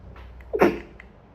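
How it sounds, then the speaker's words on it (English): A single sharp sneeze bursts out near the middle of an otherwise quiet moment, close and fairly loud, with faint breathy sounds before and after. "I was like, I need to sneeze."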